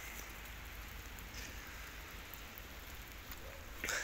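Steady rain falls outdoors in a Moroccan countryside setting, a dense continuous hiss of drops with a brief louder patter near the end and no voices.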